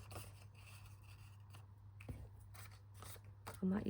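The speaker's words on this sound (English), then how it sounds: "I'll just randomly cut it, and I might have to cut one to match the size of the paper" Scissors snipping through paper stock for a handmade pocket, soft close crisp cuts repeating irregularly across the moment, with a brief louder rustle of paper handling near the end.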